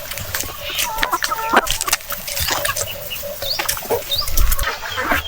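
Laying hens cluck busily as they come down for food, a dense run of close, overlapping clucks and squawks with some wing flutter and rustling.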